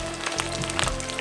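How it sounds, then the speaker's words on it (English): Chicken wings crackle in 180 °C oil during a second deep fry for Nagoya-style tebasaki, a dense steady sizzle with brief pops, close and alone. "let's fry the chicken for the second time"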